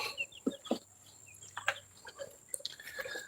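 Chickens in a backyard pen clucking in short, scattered calls over a few seconds, with a faint background hum and occasional sharper bird notes, no talk.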